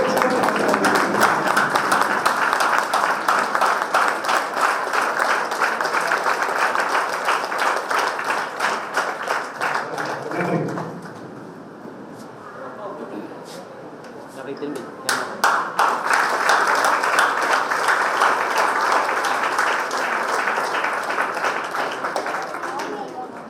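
A seated audience claps for a student and a Tamil teacher at an educational trust event, dense sustained applause that dips briefly midway and then swells again, with a voice speaking over it.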